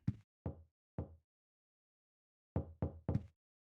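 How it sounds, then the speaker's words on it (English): Knocking on a door in the Silent Hill 4 video game: three separate raps, then a pause and a quicker group of three, sharp and fairly close against silence. "I can hear a knocking on the door"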